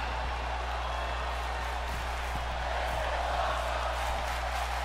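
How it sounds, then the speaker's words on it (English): A steady wash of crowd cheering and applause in the video game WWE 2K20 during a wrestling match, even and continuous, heard at a moderate distance without a standout voice. "And now the crowd cheering."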